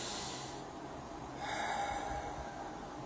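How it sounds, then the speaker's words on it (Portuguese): A slow, deep breath is drawn in and let out during a calm relaxation exercise, a soft airy rush heard close and alone against quiet background hiss. "Respire profundamente."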